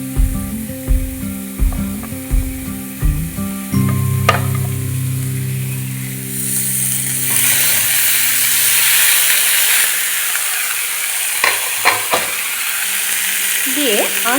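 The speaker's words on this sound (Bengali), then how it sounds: "এইভাবে নাড়াচাড়া করতে থাকবো 2-3 মিনিট" Poha with boiled vegetables is stirred in a hot pan, opening with a run of rhythmic spatula knocks, then a loud, steady sizzle and hiss with occasional scrapes.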